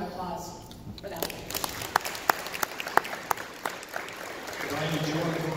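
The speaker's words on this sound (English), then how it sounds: "a round of applause for them" A small staff audience at a Region 4 stand-up meeting gives a brief round of applause, with scattered, uneven claps that build and then fade after a few seconds.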